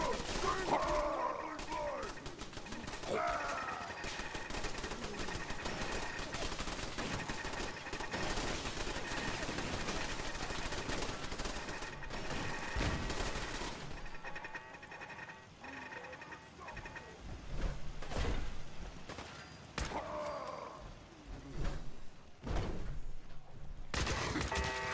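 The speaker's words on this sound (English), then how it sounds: "I would just set up a bunch of turrets, and when they come in to try to come in the vault, boom, annihilated" Automated turrets in Fallout 4 rattling off rapid continuous bursts at enemies near a vault, loud and sustained for a long stretch, with someone talking over the fire and brief pauses near the end.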